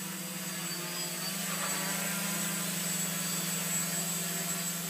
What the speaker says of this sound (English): And there's the drone that's taking the video.